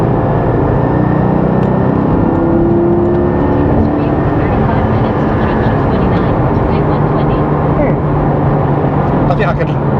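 A GT4 sports car engine cruises in fourth gear at about 3,000 RPM, producing a steady, loud drone with road and wind noise throughout the whole stretch.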